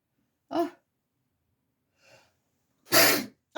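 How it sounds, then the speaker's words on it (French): A woman gives a short sharp sneeze close up, followed by a faint breath and then a second, louder sneeze burst in an otherwise quiet room. "Oh là là, j'ai envie d'éternuer."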